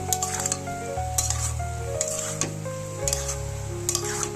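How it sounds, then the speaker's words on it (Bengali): Potato pieces and colocasia stolons with spice paste are stirred together in a pan, giving a steady sizzle broken by repeated scraping strokes and light metallic clinks of the spoon, with soft music playing beneath. "এগুলো এবার আমি সব একসঙ্গে ভালো করে কষিয়ে নেব।"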